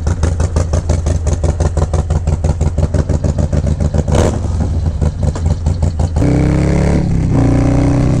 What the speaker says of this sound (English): Bike sounds so good, man. We got the stage 2. That's an S 475 cam in there.